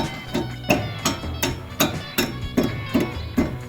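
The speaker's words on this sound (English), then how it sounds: "You'll use your hammer and just tap it back on." Repeated sharp metallic hammer taps driving a front-wheel-drive axle back into place, close and fairly steady, about two or three strikes per second, with no talking.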